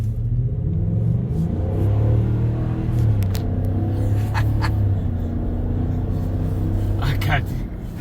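A 2024 Ford Super Duty's 7.3-liter Godzilla V8 rumbles deep and steady, swelling in a couple of revs, heard from inside the cab with people talking over it.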